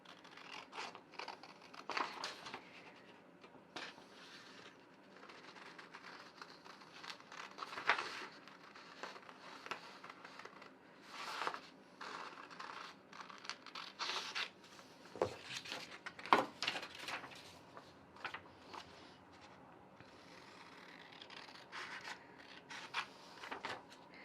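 Scissors snip along lines cutting out printed paper pattern pieces for a tote bag, quiet close-up crunching snips and faint paper rustles in an irregular rhythm, with no talking.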